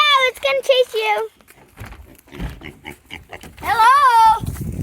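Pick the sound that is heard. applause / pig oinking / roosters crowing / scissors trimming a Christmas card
pig oinking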